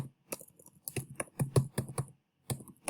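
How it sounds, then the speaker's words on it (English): Typing a letter in Word on a computer keyboard, with irregular bursts of close key clicks separated by short pauses, quiet and without speech. "then type complimentary closing sincerely."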